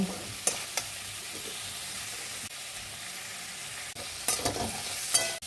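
Onion and green chili with salt frying in a pan as they are stirred, a steady soft sizzle with a few scraping spoon clatters near the start and end.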